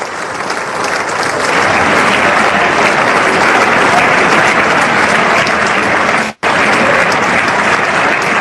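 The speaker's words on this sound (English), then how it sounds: "enough with the clapping" Loud, dense applause fills the chamber for Obama at the 2014 State of the Union, a steady roar of many hands that barely drops for about eight seconds, cut by a sudden instant of silence near the end.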